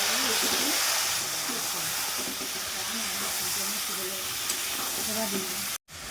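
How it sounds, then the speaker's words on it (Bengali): Mutton frying in oil with whole cumin seeds, a steady close sizzle and hiss with a person talking over it, cut off by a short gap near the end. "আবারও আন্দাজ মতো একটু তেল দিয়ে দিচ্ছি তেলে গোটা সাদা জিরে দিচ্ছি মাংস দিয়ে দিলাম"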